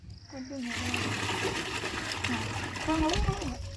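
Water being scooped and splashed in a Jaffna home, irregular close splashes and pouring with a burst near the end, under a person talking.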